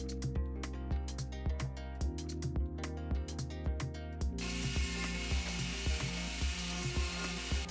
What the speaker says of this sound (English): drill a small hole from which the wire is going to come out